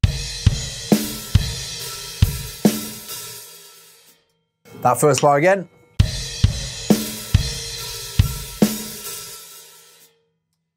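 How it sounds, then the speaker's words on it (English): Rock drum beat with crash cymbals struck together with the kicks, loud and bright over the groove, broken midway by a brief spoken phrase before the pattern returns. "it's a crash cymbal. It's still gonna sound like a crash cymbal."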